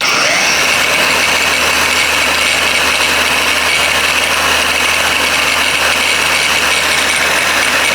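A Blackfoot 4-inch cordless brushless angle grinder runs steadily and loudly, its motor whine holding even with no load changes for the whole stretch.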